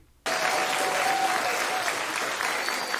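Loud, sustained applause from a large audience bursts in after a brief quiet moment and carries on steadily.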